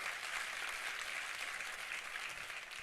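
A church congregation claps steadily, a dense, even wash of applause that sounds somewhat distant and soft and carries on without a pause.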